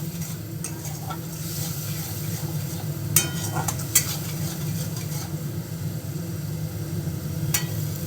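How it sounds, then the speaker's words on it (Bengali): Chili paste and ground pepper being stirred for a pabda fish curry, a steady scraping stir over a low background hum with a few sharper knocks of the utensil against the pan. "তো এটা ভালো করে মিশিয়ে নেব।"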